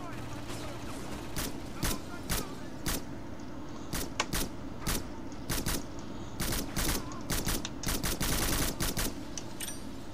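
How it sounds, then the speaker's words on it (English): Suppressed gunfire in the stealth shooter Black, with a series of sharp, fairly close shots spread across the clip in irregular bursts, bunching more densely toward the end over steady game background noise. "This thing does have a silencer."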